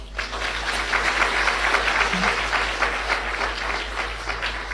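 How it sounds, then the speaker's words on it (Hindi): Classroom audience clapping hands together in a dense, steady burst of applause that fills the whole stretch, with a low mains hum underneath and no talking. "ताली बजाओ।"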